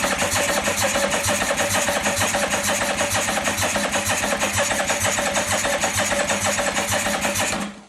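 1985 Yamaha Vmax motorcycle engine running after a start, a loud, close, rough mechanical idle with steady rapid pulsing throughout that cuts off abruptly at the end.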